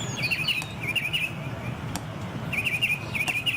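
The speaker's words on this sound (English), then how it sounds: "Hey, birds!" Birds chirp in bright, quick bursts within a commercial, two clusters of tweets separated by a short pause over a soft background hiss.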